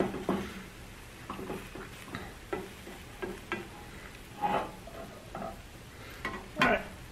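An egg frying in an 8-inch Koch Systeme copper nonstick pan, a soft steady sizzle with faint stirring clicks as the pan is tipped and the egg runs back along the edges.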